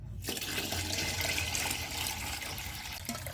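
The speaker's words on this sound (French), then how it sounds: "Lorsque nous versons l'eau restante, les amis, mélangez le tout." Boiled drinking water pours steadily into a container while homemade grape wine is prepared, a continuous close splashing gush after a brief quiet start.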